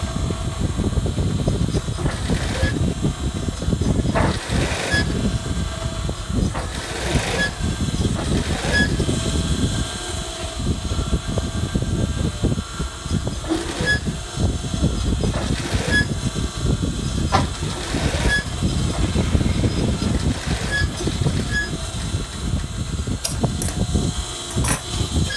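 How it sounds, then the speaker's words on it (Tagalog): Steady whooshing hum of an electric fan running close by, continuous and fairly loud, with faint clicks and rustles over it. "Andiyan ang electric fan."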